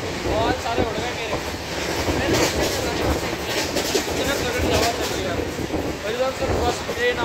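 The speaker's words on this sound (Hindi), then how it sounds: "सर बस ट्रेन आ रही है, जिससे ट्रेन आ रही है" A train approaches at a station in India, its rumble and rattling wheels running loud and continuous, with a voice talking over it.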